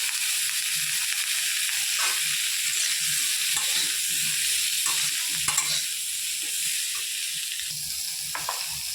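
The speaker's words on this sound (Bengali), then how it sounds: "দিয়েও হালকা ভাজা হয়ে গেছে এবার গাজর দিয়ে দেবো" Potatoes, cauliflower and freshly added carrots fry in a pan for vegetable khichuri, a strong constant sizzle close up with repeated scraping knocks of a spatula stirring them.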